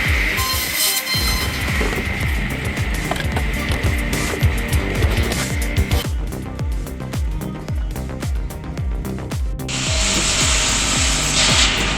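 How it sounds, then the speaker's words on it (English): A homemade circular saw cuts raw logs into firewood, its blade whining and grinding through wood in rapid repeated passes with knocks and thuds as pieces drop, loud and close with a hard mechanical rasp throughout. "This DIY circular saw slices raw logs into perfect firewood at unbelievable speed"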